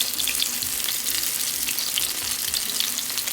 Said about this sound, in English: Can you hear that sizzle? As it's searing, the skin gets cooked.